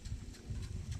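Horse hooves clip-clop on a ranch in British Columbia, a quick, muffled series of soft, close thuds in an uneven walking rhythm, faint overall.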